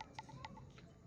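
A chicken gives a few short, soft clucks in quick succession, fairly faint against low background noise.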